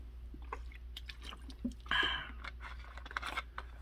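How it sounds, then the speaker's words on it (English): Someone drinking water at close range: soft sips, swallows and small wet mouth sounds, with one fuller gulp near the middle, over a low steady hum. "I'm drinking my water."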